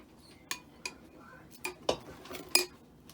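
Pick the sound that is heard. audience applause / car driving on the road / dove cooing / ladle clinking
ladle clinking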